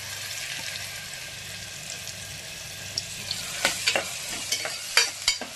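Chopped onion and garlic sautéing in oil with mustard seeds for a spicy moth bean misal, a steady close sizzle broken by several sharp scraping stirs of a spoon in the pan toward the end.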